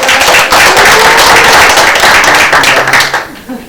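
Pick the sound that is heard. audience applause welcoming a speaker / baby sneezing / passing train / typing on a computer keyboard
audience applause welcoming a speaker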